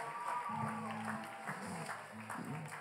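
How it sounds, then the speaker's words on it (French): Church audience at a Christmas celebration cheering and applauding, a steady wash of clapping with scattered shouts and voices through the whole stretch. "est-ce qu'on peut les encourager par des acclamations?"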